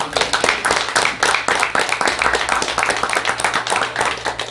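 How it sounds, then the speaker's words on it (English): A roomful of people at a county fiscal court meeting gives a sustained round of applause honoring elementary students, with brisk, close clapping throughout. "We're in the presence of royalty, that deserves a round of applause."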